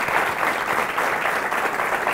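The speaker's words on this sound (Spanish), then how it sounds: "Un fuerte aplauso" Audience applause at a book presentation talk, a dense steady wash of clapping sustained throughout the short stretch, fairly loud and close.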